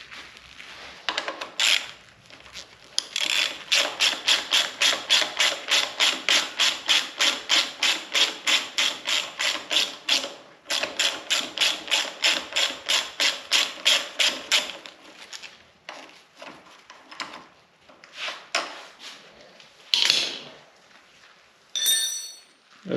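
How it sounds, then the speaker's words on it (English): A nut and bolt are worked off a Kawasaki Ninja 300 or Z125 Pro motorcycle, with a long run of rapid rhythmic ratcheting strokes, then slower scattered clicks and metallic handling noises close by. "you take the nut off the bottom and then you take the bolt out"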